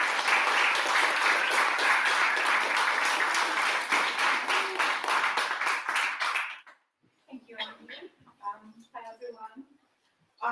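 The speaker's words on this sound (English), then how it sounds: "So if everyone could please give a round of applause for that." An audience at a talk claps loudly and steadily for several seconds, then the applause stops abruptly and a person begins talking.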